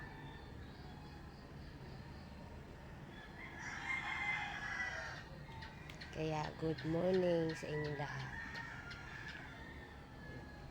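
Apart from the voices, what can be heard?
roosters crowing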